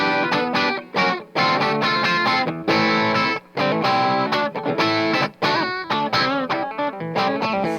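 Heavily distorted electric guitar through Kinman PAF Astound humbucker pickups plays chords and riffs with a thick, saturated tone, loud and steady with brief gaps between phrases.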